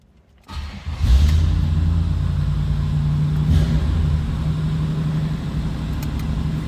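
A 1947 Ford convertible street rod engine cranks and catches, then settles into a steady, deep idle with a slight rumble, close by and fairly loud.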